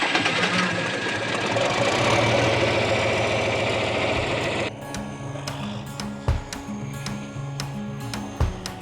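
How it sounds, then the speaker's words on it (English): An old John Deere 4020 tractor with a chrome stack runs loud and close with a steady heavy drone, then shifts to a lower, rhythmic chugging idle broken by a couple of sharp knocks. "This 4020 is super loud"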